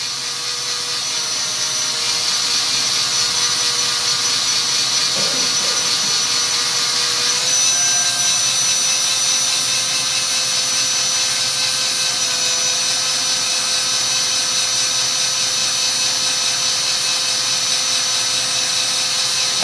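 A torch flame heats a brass .577/450 rifle casing, giving a steady, close, loud roaring hiss that holds unbroken throughout with a faint tonal whine beneath it.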